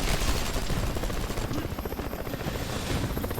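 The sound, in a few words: helicopter in the video game Marlow Briggs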